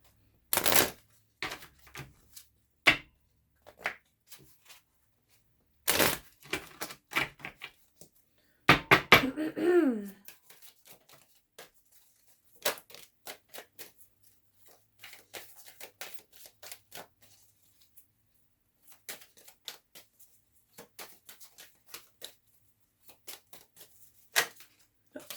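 Oracle cards are shuffled during a tarot reading in sharp, irregular bursts of riffling and snapping with quiet gaps between, near and close, alone without talk.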